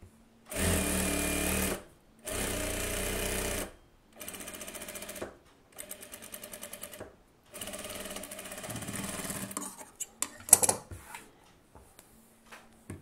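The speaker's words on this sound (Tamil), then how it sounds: "நீங்கள் இந்த கேன்வாஸ் மேலே தைச்சிக்கலாம்" Sewing machine stitching a blouse collar onto canvas runs in several separate bursts, each a few seconds long with short pauses between, up close and alone, followed by a few faint handling clicks.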